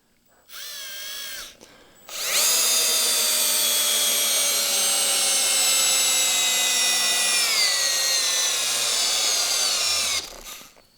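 A Harbor Freight Hercules cordless drill drives a lag bolt with a socket, whirring loud and close for about eight seconds, its pitch dropping as the bolt bites and the motor bogs before it stops.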